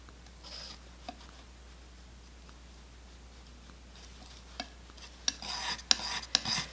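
Paint being mixed on a palette with a brush or knife, soft scraping and light dabbing near the mic, quiet at first and growing into louder, repeated swishes and taps toward the end.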